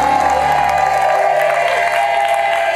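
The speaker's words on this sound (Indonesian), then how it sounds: "Tepuk tangan untuk single man kita" Studio audience applause rings out at an Indonesian Take Me Out dating show, steady and loud clapping with some cheering for nearly three seconds under a bright, music-like tone.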